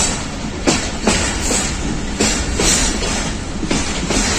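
A Pakistan Railways train on the Lahore to Sialkot line rolls into the city near Jammu Road, loud and close, with rhythmic clickety-clack wheel beats over rail joints and a steady rumble, no voices.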